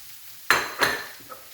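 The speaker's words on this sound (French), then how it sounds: "on va mettre tout de suite donc le céleri dans la poêle" Celery tipped into a frying pan for a celery and chorizo risotto, giving two quick sizzling bursts close by, each fading, then a soft clink near the end.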